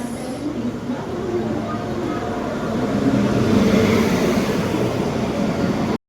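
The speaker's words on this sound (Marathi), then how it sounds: "मित्रांनो, आता आपली ट्रेन आलेली आहे," A Jan Shatabdi Express train pulls into a station with a continuous heavy rumble and rolling wheel noise, growing louder midway and holding steady, with station bustle beneath.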